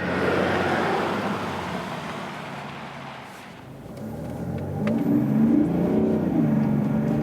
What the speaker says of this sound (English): this diesel here has quite some torque, definitely. The 3-liter 6-cylinder, and it's really quite fast